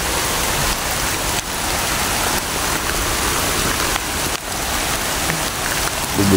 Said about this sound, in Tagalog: Ulan. Malakas ang ulan.